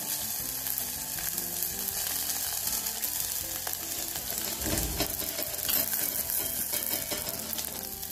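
Green chillies frying in oil for a Dolichos bean bhaji, with a steady close sizzle that runs without a break and picks up a brief louder crackle partway through, no voices.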